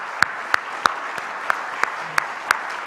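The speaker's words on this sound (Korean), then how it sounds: "다시 한번 3040 믿음의 우리 다음 세대를 위해서 여러분의 박수로 축복해 주시길 바랍니다" A church congregation at a prayer meeting applauds to bless the next generation. A steady bed of clapping runs throughout, and sharp individual claps ring out at regular intervals close by.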